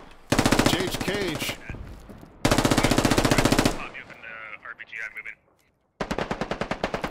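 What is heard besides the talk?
gunfire in a video game (SquadOps)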